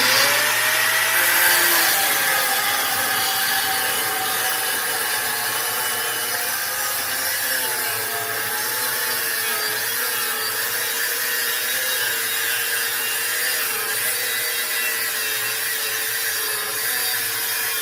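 Final cuts being sawn through a metal vehicle bumper with a power tool, a loud continuous grinding whine with a shifting pitch held for the whole stretch, close and without talk.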